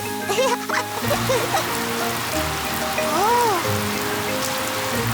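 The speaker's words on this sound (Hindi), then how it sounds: "पेपा ने पाइप पकड़ी और डैडी पिग ने पानी शुरू कर दिया।" Cartoon water gushing from a garden hose while a family washes their car outdoors, a steady splashing hiss running for several seconds beneath lively animated voices and children chattering.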